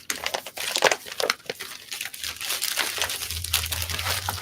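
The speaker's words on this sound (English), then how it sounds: "We're going to put the coffee in a little bag here." Bags of ground coffee being packed into a bag, heard as close, irregular crinkling and rustling of paper or plastic packaging, with a low hum entering partway through.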